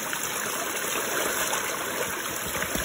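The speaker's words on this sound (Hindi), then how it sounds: "जैसे पानी बह रहा है यहाँ से।" Stream water flowing steadily in Arunachal Pradesh, a continuous broadband rush and babble close by, holding an even level throughout with no voices.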